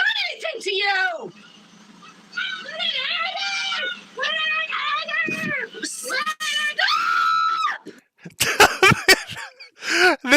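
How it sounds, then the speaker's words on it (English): Two people screech and scream at each other in shrill, wordless bursts, alternating rapidly with short gaps, loud and close, ending in a flurry of sharp cries. "they're just screeching at each other"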